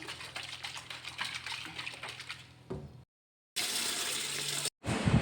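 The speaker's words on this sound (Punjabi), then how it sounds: "ਲੋ ਜੀ ਆਪਾਂ ਨੇ ਪਾਣੀ ਪਾ ਲਿਆ ਇਹਦੇ ਵਿੱਚ ਪੋਚਾ ਲਗਾਉਣ ਲਈ" Water gushes from a tap into a mopping bucket at home, a loud steady splashing fill that cuts off abruptly twice and then resumes, with no voices.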